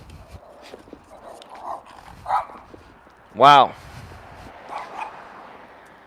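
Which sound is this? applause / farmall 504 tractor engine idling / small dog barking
small dog barking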